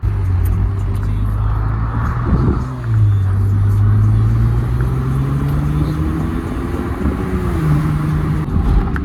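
Steady engine hum and road rumble from inside a ten-year-old BMW driving through a city on rough roads, with gear shifts and pitch changes as it drives along; no speech.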